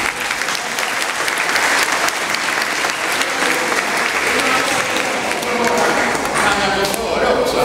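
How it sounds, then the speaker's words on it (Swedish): An audience applauds steadily and loudly after an aikido demonstration in Malmö, a dense wash of clapping that keeps going for several seconds. "Visst var det nästan så det förtjänade en applåd"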